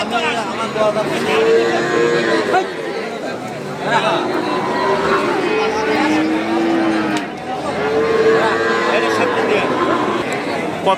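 Cattle and bull calves, including Friesian and crossbreds, low repeatedly at a cattle market, drawn-out moos rising and falling over a busy crowd, with people chattering nearby throughout.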